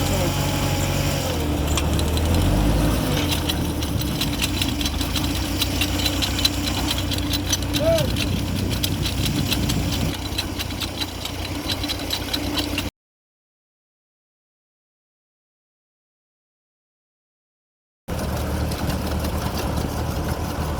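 A tractor engine idles steadily at close range with a low rumbling drone, voices talking over it, then the sound cuts out briefly before resuming.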